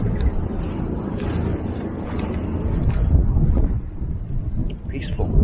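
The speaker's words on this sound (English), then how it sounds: "Peaceful, windy, very windy." Strong wind blows outdoors beside a small babbling brook, buffeting the microphone with a continuous low roar and surging gusts that swell and ease across the stretch.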